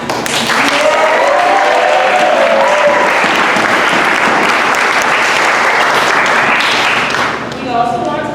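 A large crowd at a high school spring athletic awards event gives loud, sustained applause, a thick continuous wash of clapping with some voices mixed in, easing near the end.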